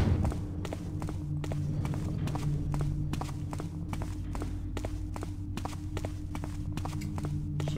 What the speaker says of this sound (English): That's where the footsteps run away.